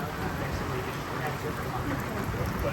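Steady, dense heavy rain drums on a trail shelter roof overhead on the Appalachian Trail, a continuous broadband hiss with no breaks.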